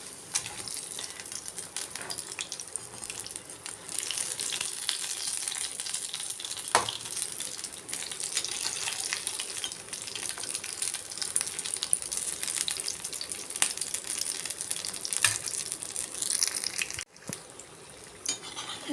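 Potato bonda deep-frying in hot oil, a steady close crackling sizzle that runs throughout, with a few soft clicks as the fritters are turned over; no voices.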